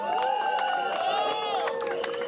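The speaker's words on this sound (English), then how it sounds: "let's give him a round of applause, please" Crowd at an outdoor rally for LGBTQ+ refugee rights in downtown Toronto cheering and whooping with scattered clapping, a lively burst of many voices close by.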